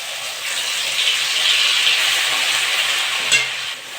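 Ground spice paste sizzles in hot oil with nigella seeds, a steady loud frying hiss that holds throughout, with a faint scrape of stirring near the end.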